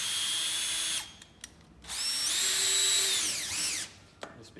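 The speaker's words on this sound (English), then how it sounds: "Just quite easily grab it and drill it through." A power drill drives screws through the pre-drilled holes of a large brochure display holder in two close, whining bursts, the second rising and slowing as the screw seats, with brief pauses and faint handling clicks between.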